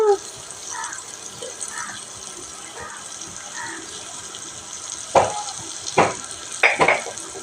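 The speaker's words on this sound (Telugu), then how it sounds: "ఇప్పుడైతే ఉల్లిపాయలు పచ్చిమిర్చి అయితే వేస్తాను ఏంట సౌండ్" Onions and green chillies hit hot oil in a pan, giving a steady soft sizzle with a few sharp utensil clatters near the end, while a voice talks at the start.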